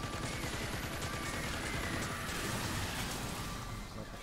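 Rapid spraying fire from a purple, shotgun-like alien weapon in Earth Defense Force 5, a continuous dense crackle of shots that stays steady and fairly quiet for several seconds.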